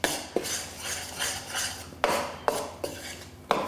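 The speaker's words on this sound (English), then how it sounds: "Give them all a good stir together." Cake batter for a pear, almond and tahini cake being stirred in a bowl, a spoon scraping and knocking against the sides in several sharp clacks between softer swishing strokes, close and without talk.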